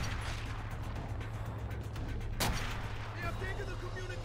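Gunfire and explosions from the video game Call of Duty: World at War: a sharp, loud blast near the middle sits over rumbling battle noise, with a low background hum throughout.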